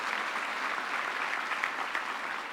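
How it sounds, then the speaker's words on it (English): Graduation ceremony audience applauding for a graduate, a steady, even roar of many hands clapping at moderate distance with no speech over it. "give him another hand of applause"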